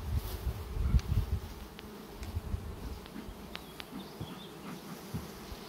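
Honeybees in a nucleus hive where a virgin queen has hatched, filling the air with a continuous close hum of buzzing wings and brief louder passes of individual bees.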